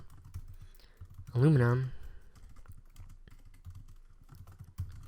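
Keys are tapped on a computer keyboard in a quick scattered patter, with someone speaking briefly partway through over the soft clicks.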